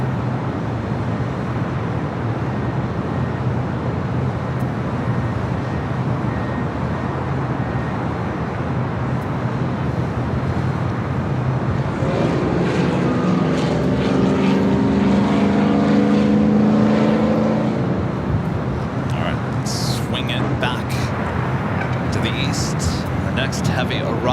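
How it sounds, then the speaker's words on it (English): A China Eastern Boeing 777-300ER taxis on a taxiway at Los Angeles International Airport, a steady broadband engine roar with a rising whine partway through, continuous and fairly loud with wind and ambient noise. "It's the China Eastern 777-300ER heading back to Shanghai. Currently on taxiway Bravo heading to 25 right."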